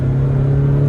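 Diesel engine of a Mahindra Thar revving hard while being driven, a loud, steady low drone that holds a constant pitch for the whole second, close up with no talk.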